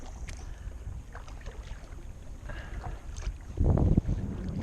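A canoe paddled across a small Florida lake, with soft water swishes and a brief stronger splash of a stroke, under steady wind and microphone buffeting, no talking.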